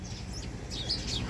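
A crowd of sparrows tweeting and chirping in a rooftop garden, bright overlapping calls nearby that grow a little busier toward the end.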